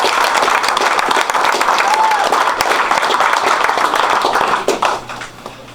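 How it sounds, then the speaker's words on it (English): An audience at an American Legion veteran's induction ceremony gives sustained, dense applause at steady volume, with faint voices underneath, before the clapping thins and fades near the end. "round of applause for Lee Hinkleman"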